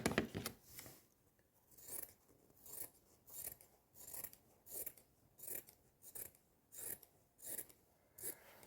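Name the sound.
scissors cutting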